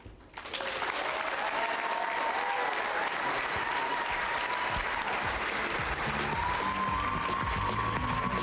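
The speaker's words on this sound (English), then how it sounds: "One more round of applause." Sustained, dense applause from a large audience at a university real estate competition night, steady and full for about eight seconds with a faint musical tone running underneath.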